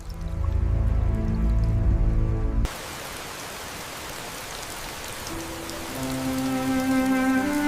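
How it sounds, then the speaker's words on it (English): Heavy monsoon rain pours down in a continuous broadband hiss, loud and steady throughout, after an opening of low rumbling tones that cut off sharply; a soft tonal drone rises later beneath the downpour. "Now, the monsoon rains arrive."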